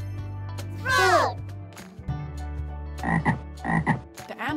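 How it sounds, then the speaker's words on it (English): Loud frog croaks sound close by in an Amazon jungle diorama setting, one long rasping call and then several shorter throaty croaks over a low steady hum. "Frog!"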